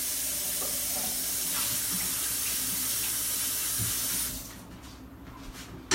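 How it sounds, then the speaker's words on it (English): A kitchen tap runs steadily as hands are washed, a close broadband rush of water that cuts off near the end, leaving quiet room tone. "Let me wash my hands."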